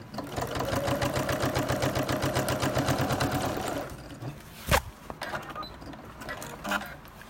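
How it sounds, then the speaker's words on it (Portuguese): A sewing machine stitches a synthetic-leather crossbody bag with lining, running in a steady rapid chatter for about four seconds before stopping, followed by a sharp knock and faint handling sounds. "eu costuro rente ao sintético aqui, ó, bem na ponta."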